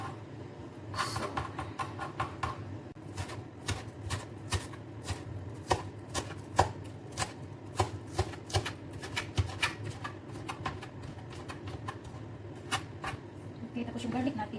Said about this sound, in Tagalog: tapos ikakat ko lang siya. Pinuhin ko talaga siya.